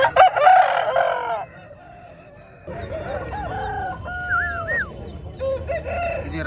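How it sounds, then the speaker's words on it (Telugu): A rooster crows loudly at the Mydukuru poultry market, one full crow up close at the start, followed by scattered clucks and chicken calls over a low market hubbub. "చూడండి మంచి పుంజు."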